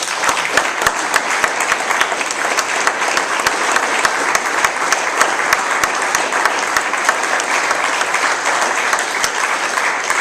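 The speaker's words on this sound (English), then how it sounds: "So another round of applause and thank" A large audience at a fundraising event applauds, a loud, sustained roar of clapping with crisp individual claps poking through, steady throughout without fading.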